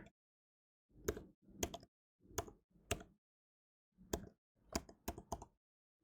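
A terminal command is typed on a computer keyboard in short bursts of crisp, close key clicks, a handful of separate groups with brief pauses between them in an otherwise quiet room.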